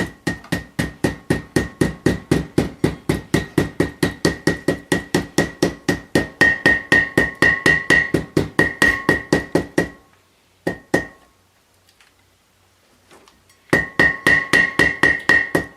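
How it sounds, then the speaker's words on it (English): Rapid, steady hammer taps on a wheel bearing seal on a Ford E-350 van, dozens of close, ringing metallic strikes for about ten seconds, a brief pause with a couple of taps, then another fast burst. "tap that in with this already nasty hammer"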